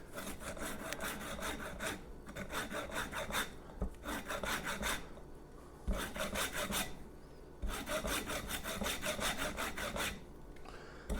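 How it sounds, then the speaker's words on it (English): An orange is zested on a grater in bursts of rapid, scratchy rasping strokes, each run a couple of seconds long and separated by short quiet gaps, heard close up with no talking. "now we're going to zest an orange into this."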